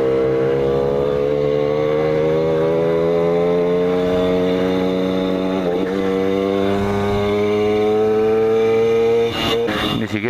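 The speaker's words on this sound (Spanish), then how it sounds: "Vamos a ver que el motor funcione." A rebuilt motorcycle engine runs at a steady idle, rising slightly in pitch over several seconds, loud and close, with brief clattering near the end.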